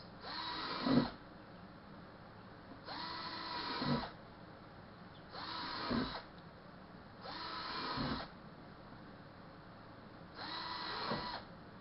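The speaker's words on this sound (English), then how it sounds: "I'm going to drill the new sets of holes." A power drill whines in five separate bursts of about a second each, drilling holes in a plastic tote, spaced evenly apart with quiet pauses between them, close by.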